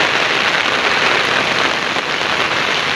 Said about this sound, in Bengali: আর বৃষ্টির ফোঁটা জলে পড়ে দেখেন কিরকম ঝিঝি ঝিঝি ঝিঝি লাগতেছে